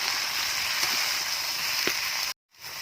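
Okra fries in oil left over from frying prawns, giving a dense, even sizzle with occasional small pops, close and steady until it stops abruptly, followed by a softer hiss.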